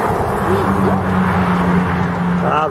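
A city bus on a São Paulo road, a G7 model, rumbles past close by with a steady, loud engine drone throughout, while men chatter excitedly over it.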